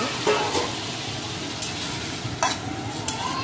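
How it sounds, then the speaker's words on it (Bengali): Hot water left over from pressure-cooking potatoes hits a hot wok of poppy-seed paste, giving a loud hissing sizzle with a few short splashing bursts as it is stirred. "গরম জলটা কড়াইয়ের মধ্যে দিয়ে দেবো"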